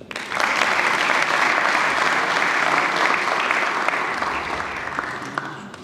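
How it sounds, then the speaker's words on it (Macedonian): Sustained applause from an audience at a sports awards ceremony, steady dense clapping that swells quickly and runs for several seconds before easing slightly, with no talk over it. "Па аплаузи."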